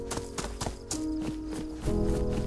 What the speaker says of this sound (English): keep hearing footsteps.